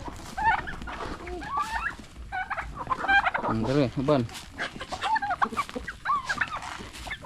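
Backyard chickens clucking in repeated short bursts among other fowl, including a turkey, with a person talking nearby at times.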